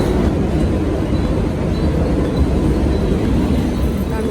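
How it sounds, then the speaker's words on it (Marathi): A train pulls into a station with a loud, continuous rumble and rolling rattle of carriages that stays steady throughout, with a faint murmur of voices mixed in beneath. "आमची ट्रेन आली आहे."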